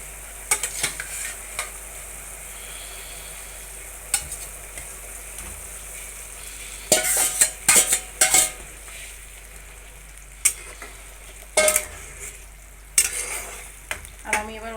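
Pointed gourd (potol) frying in a pan for a yogurt-based doi potol dish, a quiet continuous sizzle with bursts of louder stirring and scraping clatter toward the second half.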